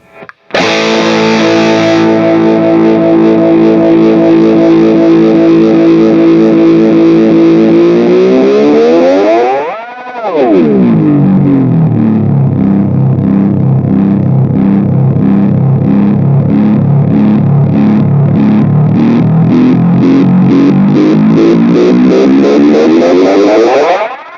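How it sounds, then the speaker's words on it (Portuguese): A loud, distorted delay feedback drone from an Analogman ARDX20 pedal self-oscillating swells and sweeps in pitch, dipping sharply midway before building into a dense, pulsing, oscillating roar. "E agora a oscilação com som sujo. Feedback bem alto."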